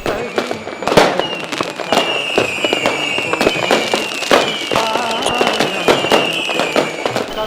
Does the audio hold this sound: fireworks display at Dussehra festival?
yes